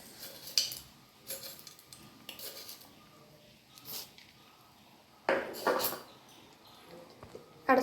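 A metal lid goes onto a cooking pot of simmering sardine curry, giving quiet, scattered clinks and clatters of metal on metal spread across several seconds, with a few sharper knocks near the end.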